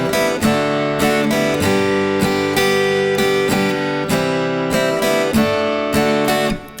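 Acoustic guitar strumming moves quickly through chord changes, open strings sounding briefly between them, a brisk run of a dozen or so strokes in a steady rhythm, close and alone.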